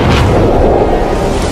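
A deep, loud supernova explosion effect rumbles continuously as a dense low boom, sustained and heavy from start to finish with no voices.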